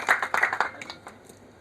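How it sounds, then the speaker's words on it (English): A small audience claps for guests from the Ethiopian embassy, a brief burst of close, dense hand claps that thins quickly and trails off within a second and a half. "Let's have a round of applause for both of them."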